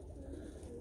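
A young racing pigeon, a Tiger grizzle or carno-meuleman bird, coos softly in a loft, a low murmuring burble close by and faint, with no one speaking.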